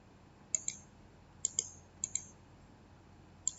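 A computer mouse gives a handful of crisp, close clicks. Some are paired as quick doubles, with short quiet gaps between them.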